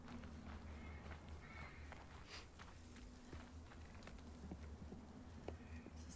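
Footsteps in the video game Through the Woods, soft repeated steps with occasional sharper knocks over a continuous low humming ambience, moderately quiet throughout.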